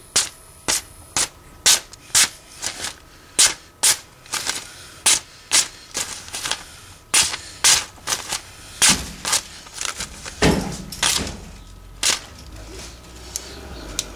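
A Benchmade H&K Ghost 3.0 knife slices rapidly through doubled-over material, producing a quick, steady series of about two dozen crisp, close cutting rasps, each roughly half a second apart.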